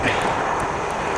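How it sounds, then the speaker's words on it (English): A steady airplane engine roar from a landing plane, broad and fairly loud, holding constant with no voices on top. "See a plane landing."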